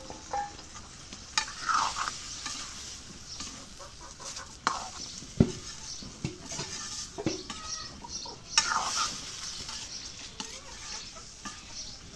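Okra tipped into a pan of fried chillies, followed by stirring: a soft sizzle under repeated scraping and clinks of a utensil on the pan, with a few sharper knocks and faint outdoor village sounds in the background.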